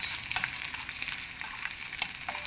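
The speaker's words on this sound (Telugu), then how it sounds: "మిర్చి వేగుతున్నాయి, తీసేస్తున్నాను" Dried red chilies crackle and sizzle steadily in hot oil in a pan, a dense, close frying hiss with small popping bursts and no voices.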